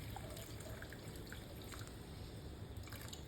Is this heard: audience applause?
no